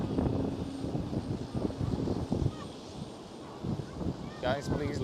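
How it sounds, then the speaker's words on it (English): KLM Cityhopper Embraer E175 jet taking off from runway 18 left at Amsterdam Schiphol, heard as a steady low engine roar from a distance mixed with wind buffeting the microphone, with a brief higher whine near the end. "there is a takeoff again on runway 18 left"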